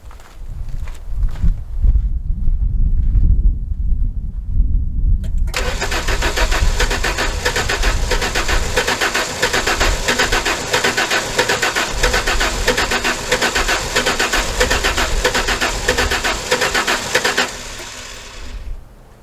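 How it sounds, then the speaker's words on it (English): An old car with a sticking starter and stale fuel rattles through low rumbling cranking for several seconds, then catches and runs with a loud, rough, buzzing roar that settles briefly before cutting back near the end. "It's gonna start."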